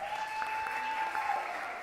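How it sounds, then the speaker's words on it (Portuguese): Applause from a live audience welcoming a professor onto a stage at a youth-filled talk-show event, a steady wash of clapping that continues for the full span, with a faint sustained tone beneath it. "Palmas para o professor Elvéter."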